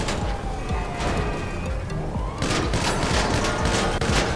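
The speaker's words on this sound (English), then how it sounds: "They have freaking machine guns." Rapid bursts of police machine-gun fire crackle in GTA Online, dense overlapping volleys that grow louder and sharper after a brief lull midway.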